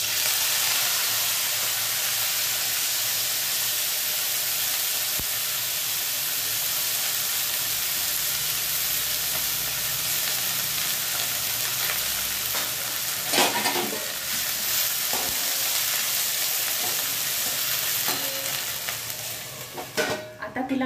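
Cumin, mustard seeds and washed spring onion greens hit a hot pan, producing a loud continuous sizzle with stirring scrapes and bursts of hissing steam, close and without speech.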